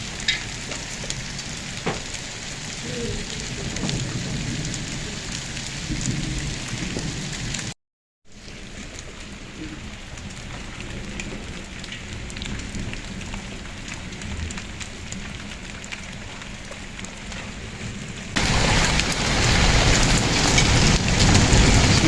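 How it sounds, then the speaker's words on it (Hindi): Heavy rain mixed with hail pours steadily as a dense, hissing roar, briefly cutting out and then swelling louder toward the end, with no voices over it. "बारिश भी तेज़ हो चुकी है और तकरीबन औले भी जो हैं, ये बर्फ़बारी जो है ये भी अपने अरूज पे आ चुकी है।"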